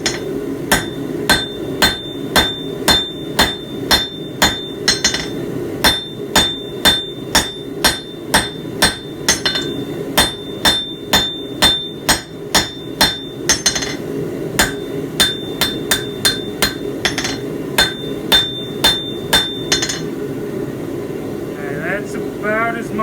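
A hand hammer strikes hot steel while making a smith's touchmark, a long run of sharp ringing metallic blows at a steady rhythm, with brief pauses, some clustered quick taps and a faint background hum.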